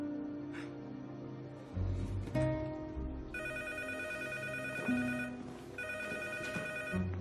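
A telephone rings in repeated electronic trill bursts of even pitch, moderately loud and close, with background noise and a few low thuds between the rings.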